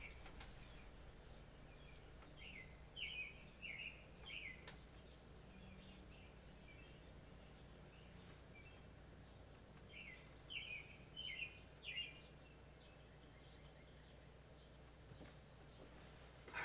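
Small bird outside a house sings short repeated chirping phrases, faint and distant, over a steady background hum, with two bursts of song separated by a quiet gap.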